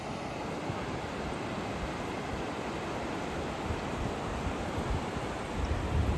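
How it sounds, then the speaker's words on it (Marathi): Sea waves break on a wide, open Konkan beach as a steady, loud roar of surf, a dense wash of noise that carries on unbroken and swells slightly toward the end. "पण व्हिडिओ पाहताना तुम्हाला पण आवाज येईल लाटांचं भरपूर"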